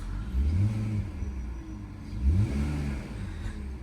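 A 2004 BMW 325ci E46 engine revs up twice, its pitch climbing and falling back each time, steady and close.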